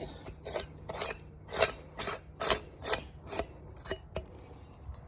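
Metal pipe being threaded onto a Massimo 200 exhaust, a series of about nine raspy scraping strokes in a steady back-and-forth rhythm, close and moderately quiet with no speech.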